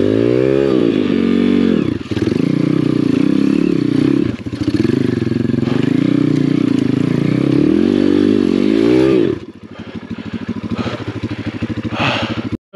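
A Chinese pit bike on a hard enduro trail, its engine loud and close, revving up and down with rising and falling pitch, with brief dips, then dropping to a rough idle with clatter and knocks near the end.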